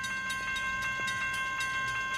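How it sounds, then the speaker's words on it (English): A train passing nearby, a steady rumble with a rhythmic series of clacks as wheels cross rail joints, plus a sustained high tone, loud and continuous without talk. "The train is coming! The train is coming! Train's coming!"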